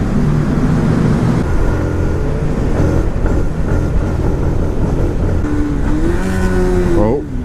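A 2018 Yamaha MT 125 motorcycle speeds downhill, its engine droning loudly and steadily under heavy wind rush, with a rising whine near the end and a rider talking over it.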